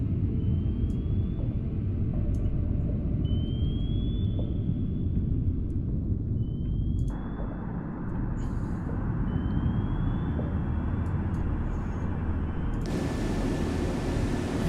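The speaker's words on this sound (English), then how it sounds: "Helicopter's getting close." A helicopter in the naval combat game Sea Power closes in as a steady, loud rotor and engine rumble, with faint rising electronic tones and brief clicks on top. The rumble holds for the whole stretch and brightens near the end.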